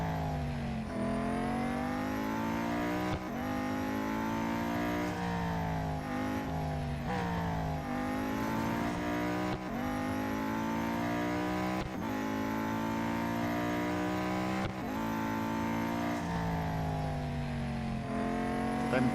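A race car engine in the Real Racing 3 video game revs up repeatedly, each rising whine climbing through the gears before dropping at a shift, continuous and steady with no talking.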